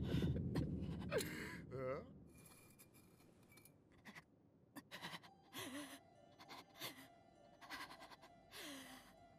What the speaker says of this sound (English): I don't know if I like that labored breathing